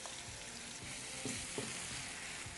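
Onion and dried red chili paste frying in hot oil on a TV cooking show, a steady soft sizzle with occasional stirring scrapes, no voices.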